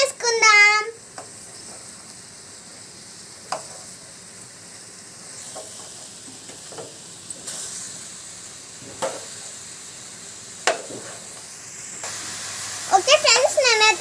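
A ridge gourd and egg curry is stirred in a pan under a low, continuous hiss, with occasional soft scrapes and clinks, while a person talks at the start and end.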